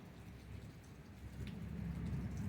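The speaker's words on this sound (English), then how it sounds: "Little tropical storm, little tropical rain" Tropical rain falling outdoors in Florida during a small tropical storm, a steady hiss of drops with a low rumbling undertone that swells slightly toward the end, with no voices.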